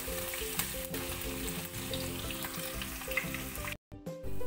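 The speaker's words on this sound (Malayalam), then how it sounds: "ഇനി അതിലോട്ട് 5 ചെറിയ ചെറുതായി അരിഞ്ഞത് ഇട്ട് കൊടുത്തിട്ട് നല്ലോണം ഒന്ന് വഴറ്റിയിടും." Chopped onions sautéing with cumin seeds in hot oil, a loud, close, continuous sizzle and crackle with occasional stirring, ending in a brief silence before the frying resumes; no voices.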